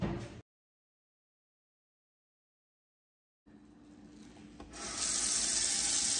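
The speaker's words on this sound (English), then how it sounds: "So I get really cold water in my sink." Cold tap water runs into a kitchen sink for rinsing fresh fruit. A brief burst gives way to silence, then a steady rush of water starts and grows louder and fuller partway through, with no talking.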